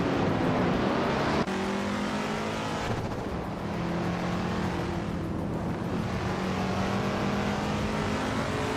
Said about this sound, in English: The vintage supercars are definitely bringing the noise here